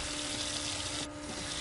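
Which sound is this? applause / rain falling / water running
water running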